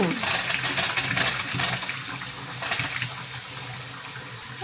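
Water pours steadily from a tap into a sink basin with its drain closed, a continuous splashing rush with people talking over it.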